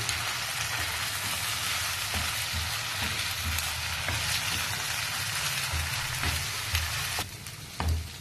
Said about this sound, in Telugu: ఈ 2 బాగా కొంచెం బ్రౌన్ కలర్ వచ్చే వరకు వేపడం.